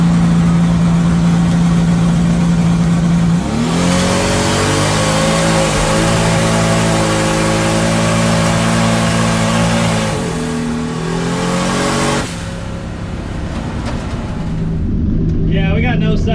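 A powerful V8 drag car engine on low boost holds steady at its rev limiter, a loud, sustained buzzing drone that wavers slightly before dropping back toward idle.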